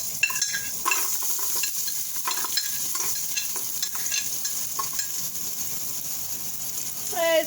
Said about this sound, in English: I got some olive oil in the pan, and I'm adding some chopped up garlic right now.